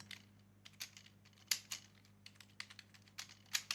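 Close, quiet typing on a computer keyboard while entering HTML code, with irregular quick keystrokes and a few sharper key clacks over a faint low hum.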